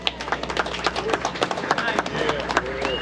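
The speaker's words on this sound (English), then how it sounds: "Round of applause for Mr. Ken Harvey." Audience applause for guest Ken Harvey, an author of children's books, rendered as a steady patter of scattered claps lasting about three seconds, with a voice talking over it.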